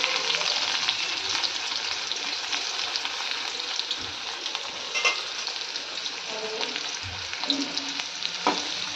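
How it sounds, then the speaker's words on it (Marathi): Finely chopped onion sautés in hot oil, giving a dense, even sizzle close up, broken by spatula scrapes and stirring knocks throughout, with no voices. "मी हा कांदा चांगला परतून घेणार आहे तेलात"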